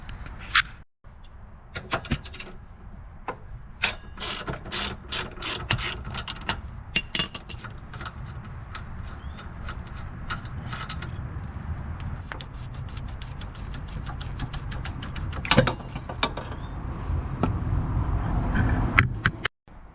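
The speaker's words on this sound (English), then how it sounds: "we got to go down to the bottom and take the 14mm bolt off of here" A ratchet removes a 14mm lower shock bolt on an AE86, with rapid clicking bursts and metallic clinks over a rumbling background, close and irregular, growing busier toward the end.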